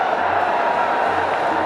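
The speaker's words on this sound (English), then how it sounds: "Massive crowd. Absolutely fantastic." A massive cricket stadium crowd at a Pakistan Super League playoff between Karachi Kings and Peshawar Zalmi, a steady broad roar of cheering heard from a distance, with a commentator's voice faintly present.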